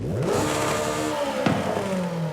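Car engine with a normal turbo revving in the video game Forza Horizon 5, a loud, continuous rising and falling whine of engine harmonics with a brief click partway through.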